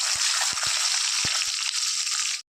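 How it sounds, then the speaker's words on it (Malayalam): Garlic, ginger and green chilies frying in a pan for a ladies finger pickle, giving a loud, steady sizzle broken by a few soft knocks and dropping out abruptly near the end. "ഇനി പച്ചമുളക്, ഇഞ്ചിയും എല്ലാം വെളുത്തുള്ളി എല്ലാം നന്നായിട്ടൊന്ന് മൂത്ത് വരട്ടെ"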